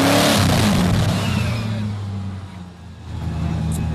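A Swedish-built Koenigsegg sports car engine revs loudly close by, its pitch sliding down as the revs fall, then dipping briefly before building back to a strong steady roar.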